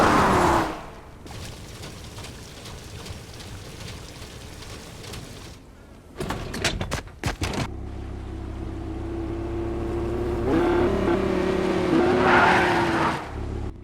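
A car in the Fortnite video game speeds along, its engine revving and whooshing with a burst of skidding and tire noise midway, then a steady rising drone, loud with no talk.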